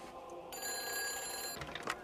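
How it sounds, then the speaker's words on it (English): An old telephone rings inside the game Everybody's Gone to the Rapture, a steady high electronic trill that starts sharply after a quiet moment and sounds close and clear over a faint hum. "Oh, phone's ringing."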